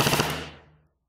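An airsoft gun running on a 7.4V LiPo battery fires a quick, close burst at about 14 to 15 rounds per second, then the shots stop and the sound dies away within a second.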